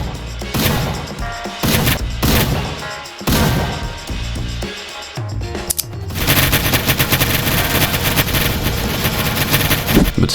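Rapid bursts of explosions from exploding ducks in a Roblox game, loud and dense gunfire-like blasts, first in choppy clusters and then a sustained barrage of booming hits.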